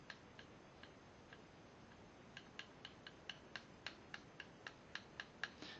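Walther P22 pistol parts clicking after heavy use, a run of faint, light ticks that start sparse and then come evenly and more often against a quiet hiss.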